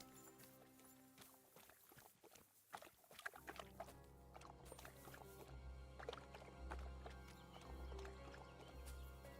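Horse hooves in a video game sound in a loose, irregular patter of soft clops that begins quietly and grows busier over a low droning backdrop.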